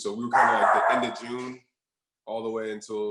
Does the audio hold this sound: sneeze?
no